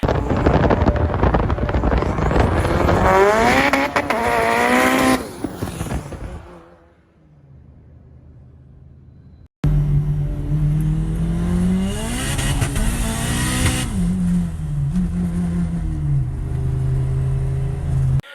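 A turbocharged Honda Civic engine revs hard through rising gears, hits boost cut into a brief quiet rumble, then roars back with another loud, climbing acceleration.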